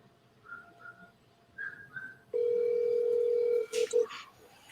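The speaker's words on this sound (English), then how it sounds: "I'm about to call Derek right now." A steady telephone dial tone sounds while a call is placed, loud and continuous for about two seconds, then cut by short beeps; soft whistled notes come before it.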